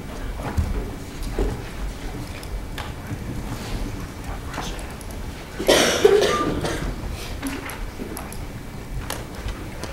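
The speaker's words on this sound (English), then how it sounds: "I'd like to apologize for this very annoying cough" A person coughs in a short burst at moderate distance, rising briefly above a quiet, slightly windy room background in a student government meeting hall.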